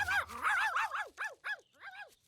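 A cartoon puppy gives a run of high, yippy barks and whimpering yelps in quick succession, close and lively, with a brief low background murmur at the start.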